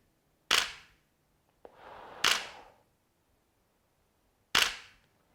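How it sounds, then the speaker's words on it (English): An SLR camera shutter fires three separate times, each a sharp, loud mechanical snap, with a softer whirring stretch of mechanism noise before the second release and quiet pauses between shots. "And of course, the shutter sound."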